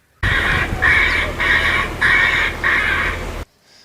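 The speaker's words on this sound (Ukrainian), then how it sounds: "установкою крякалки або відпугувача диких птахів" A loud electronic bird scarer on a farm grain storage site squawks five times in steady pulses, each burst harsh and honking like a bird cry, with no voices.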